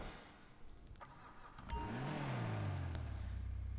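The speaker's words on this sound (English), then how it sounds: "let's hop in and see how it sounds when we start it up" A Dinka Blista Kanjo in GTA Online cranks and fires up, its engine catching partway through and settling into a steady, rising idle hum with a brief click beforehand.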